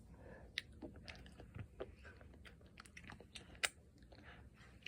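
A strawberry cookie being eaten in an ASMR setting, with faint close crunchy bites and soft irregular chewing over a quiet, low background, with no talk.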